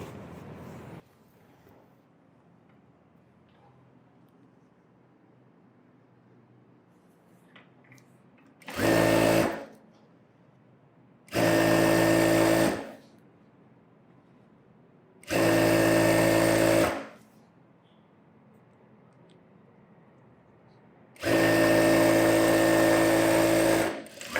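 A sewing machine stitches two lining pieces together in four separate bursts, each a loud, even whirring run of a second or two, separated by quiet pauses.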